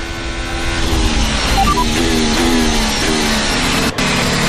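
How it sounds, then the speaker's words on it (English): A Formula 1 car's engine screams loudly at the 2023 Las Vegas practice session as it pulls out of another car's slipstream, with rising gear-change pitch sweeps over a dense, continuous roar. "The sound you can hear now is Kevin Magnussen, who's pulled out of Ferrari's toe"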